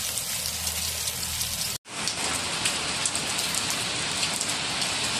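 Heavy typhoon rain pours steadily in Baguio City, a dense continuous hiss of drops on surfaces, cut briefly by a sharp break before resuming just as strong.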